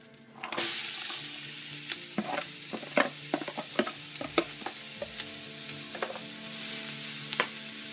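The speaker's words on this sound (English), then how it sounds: "We're going to cook these onions down just for a few minutes." Onions hit a pan of hot sausage fat and burst into a loud sizzle that holds steady while a utensil stirs them, tapping and scraping at an uneven pace.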